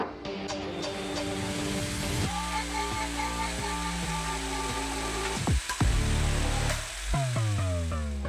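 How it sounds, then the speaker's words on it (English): A drill spins a felt polishing attachment against an old Wehrmacht lighter case at medium speed, a steady close motor whine with the pitch dropping and rising as the load changes on the metal. "For this I bought just such a felt attachment for a drill."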